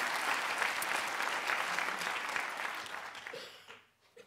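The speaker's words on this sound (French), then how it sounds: "Oui, je pense qu'on peut effectivement l'applaudir." Warm applause from the audience at a legal colloquium on terrorist attacks, steady and fairly soft, tapering off to near silence at the end.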